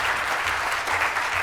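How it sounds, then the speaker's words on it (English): Applause from a business seminar audience after a talk on sales and authenticity, a brief, dense, even clapping of many hands heard close throughout. "Let's give a nice round of applause to Marty and your wonderful talk"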